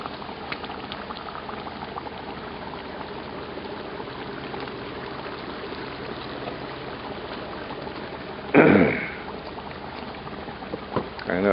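Carnitas pork simmers in a cauldron at a backyard BBQ party, giving a steady low bubbling and sizzling, with a brief louder splash or stir near the end.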